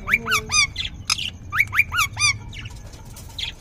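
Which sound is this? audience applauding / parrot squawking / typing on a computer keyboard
parrot squawking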